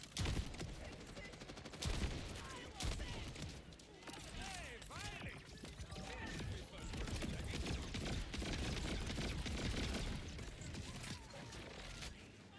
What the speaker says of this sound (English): New favorite shotgun.